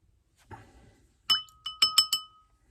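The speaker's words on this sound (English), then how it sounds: "That's me beating on my water glass, by the way." A water glass is tapped several times in quick succession, each strike ringing out with a clear, bright clink that briefly lingers, after a soft rustle.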